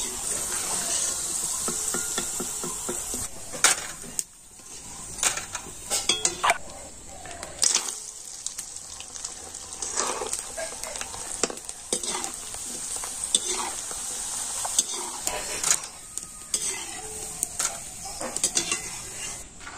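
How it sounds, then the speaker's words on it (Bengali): Rice flour chips fry in hot oil with a steady bubbling sizzle, broken by repeated scrapes and clinks of a utensil stirring and lifting them from the pan. "আর এইভাবে সমস্ত চিপসগুলো আমি ভেজে নেব।"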